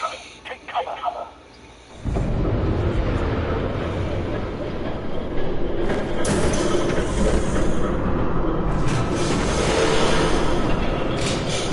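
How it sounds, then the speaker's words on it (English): In Batman Telltale Season 1, a train approaches after a quiet opening, then a loud, steady rumbling roar swells and holds for the rest of the scene, with sharper rattles near the end. "There's a train coming. Take cover."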